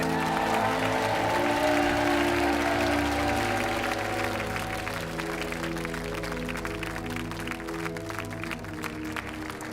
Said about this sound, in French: On vous laisse repartir sous les applaudissements du public.